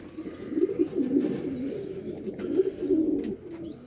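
Racing pigeons in a loft coo softly and repeatedly, several low rolling calls close by with no voices.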